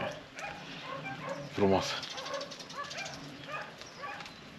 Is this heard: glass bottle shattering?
no